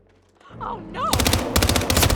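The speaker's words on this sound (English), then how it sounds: "Somebody's shooting!" Gunfire breaks out in a tense chase, a dense burst of sharp rapid shots like automatic fire, loud and close, with a voice shouting over the opening moments before the barrage takes over.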